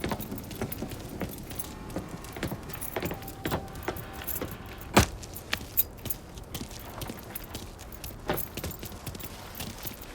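Car keys jangle in the video game Mafia III: a busy metallic rattle of small clinks and taps over about ten seconds, with one sharper knock midway, steady and close.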